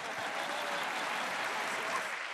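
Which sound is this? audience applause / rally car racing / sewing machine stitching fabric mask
audience applause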